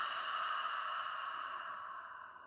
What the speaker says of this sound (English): Hear that like snoring sound,